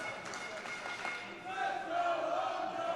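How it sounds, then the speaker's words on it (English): Wrestling arena crowd at an independent show, a broad sustained roar and cheering that swells in the second half, with a few rising voices and whistles above the din. "The crowd coming alive for Hojo."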